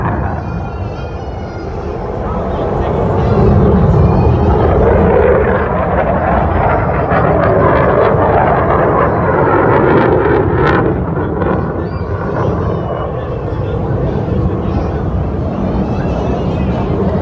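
A Boeing Super Stearman biplane flies at the Nellis Air Force Base air show, its engine a loud, steady, roaring drone buffeted by wind for the whole stretch, with voices over it.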